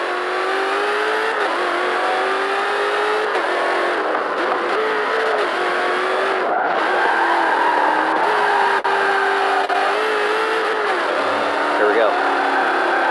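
A 2018 Dodge Demon SRT roars through gears in Forza Motorsport 7, its engine note rising and falling steadily and loud throughout, with brief shift dips along the way.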